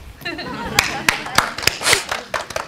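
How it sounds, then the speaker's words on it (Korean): A church congregation claps during a sermon, a handful of sharp, separate claps spread unevenly over a couple of seconds, with talk running alongside. "박수."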